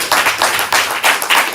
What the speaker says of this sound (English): So give them a round of applause for doing comedy.